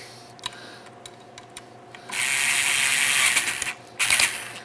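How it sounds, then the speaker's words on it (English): Screw driven into a drilled and tapped hole in soft aluminum: quick ratcheting clicks, then a sustained grinding rasp and a short final burst, close with no talk. "Just drilled a hole in the soft aluminum and tapped it. And we're going to screw right into it."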